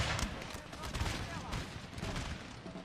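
Scattered musket volleys crackle in a Napoleon: Total War battle, a faint, steady rattle of distant shots going on throughout the clip.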